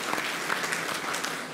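Brief burst of audience applause welcoming a guest at a waste-to-fuel technology demonstration and presentation event, steady crowded clapping with a few sharper individual claps standing out.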